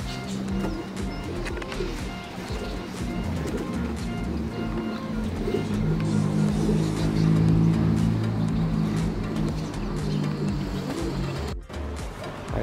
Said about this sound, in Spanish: Ahí andan las palomas.